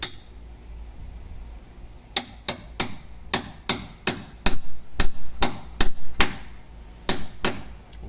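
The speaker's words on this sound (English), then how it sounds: "you use your hammer to push it in" Sharp metallic hammer taps strike a pry bar wedged under a nail in a wooden deck board, a dozen or so crisp ringing hits in an uneven rhythm, close and loud with no talking.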